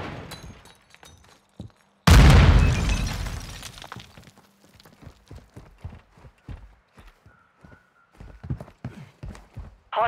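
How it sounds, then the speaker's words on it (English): A single loud grenade blast in Warzone 2 bursts out suddenly and fades into a rumbling tail over a couple of seconds. Quieter clicks and footstep-like taps follow afterward. "Grenade out."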